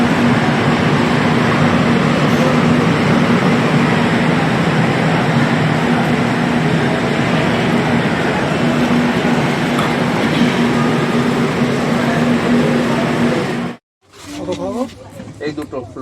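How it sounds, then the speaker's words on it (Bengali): Train pulling into Shalimar station, a loud, continuous rumble and rolling clatter with a steady hum that fills the platform, then cuts off abruptly, followed by people talking nearby. "ট্রেন চলে এসেছে"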